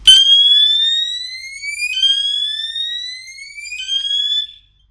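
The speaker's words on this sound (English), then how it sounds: "We can see the fire alarm here is triggered, and the fire situation happened in zone 4." An electronic fire alarm siren, set off by a smoke detector in an alarm system test, wails loudly in three rising sweeps that each climb in pitch, then cuts off abruptly.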